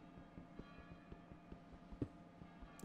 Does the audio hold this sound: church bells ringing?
yes